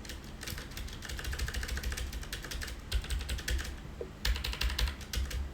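Quiet, rapid keystrokes on a computer keyboard come in bursts with short pauses between them, close and soft over a low background hum, and no one speaks.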